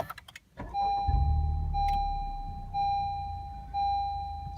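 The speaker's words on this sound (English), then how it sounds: "I'm gonna start the car" A 2017 Honda Civic Type R starts up: a short crank, then the engine catches and settles into a steady idle, close and clear, with a faint electronic chime pulsing repeatedly over it.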